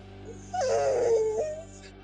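A puppy gives a single drawn-out whimper, a thin wavering whine that rises and then sinks, lasting about a second against a steady low background hum.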